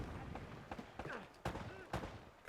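Gunfire from the video game Uncharted, with scattered sharp shots and bursts in a busy combat mix, heard under a player's talk.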